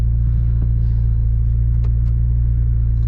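The engine of a 2021 McLaren 720S rumbles in a deep, steady, loud drone, close and unbroken, with no talk over it.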